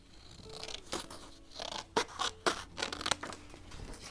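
Scissors snip through leftover paper scraps in a handful of quick, crisp cuts close by, each with a faint rustle of paper between them, quiet and without talk.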